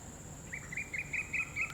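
Birds chirp in the evening with a short, rising series of bright tweets repeating at a quick regular pace, fairly clear over a faint steady insect-like hum.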